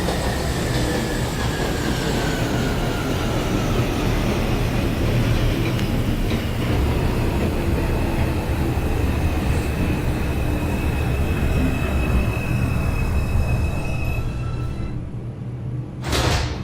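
An NYC Subway R142 train on the 5 local in the OpenBVE simulator rolls steadily with a constant low rumble and track noise, faint whining tones drifting over it, and a brief hiss and clunk near the end.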